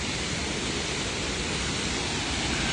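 A large waterfall roaring as a dense, steady rush of broadband water noise, constant and fairly loud with no breaks or voices.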